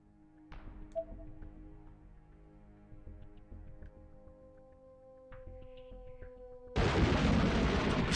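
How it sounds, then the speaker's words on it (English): A sudden, loud explosion erupts near the end, in the Corpse Party: Blood Drive horror video game set in a school. A broad roaring rumble breaks in after a quiet passage of tonal game music and keeps going. "The sound of a monstrous explosion rang out, accompanied by a violent quake that rocked the very foundation of the school."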